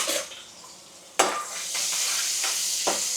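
Onions sizzle steadily in hot oil, with a few scraping stirs of a spoon against the pan and no talking.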